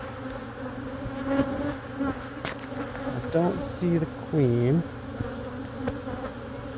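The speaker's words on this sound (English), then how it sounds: "the bees were getting a little rowdy and spicy" Honeybees swarm around an opened hive during a comb inspection, making a dense, close buzz that swells and wavers as agitated bees fly near, while a person talks softly over it.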